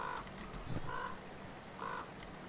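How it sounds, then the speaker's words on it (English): A crow in the Metro Exodus video game gives three short, harsh caws at an even pace over low ambient background noise. "A bird that talks?"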